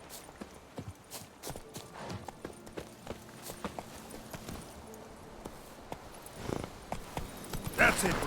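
Hooves of the horse Roach clip-clopping in The Witcher video game, a steady walking rhythm of clops over ambient game sound, with a louder burst near the end.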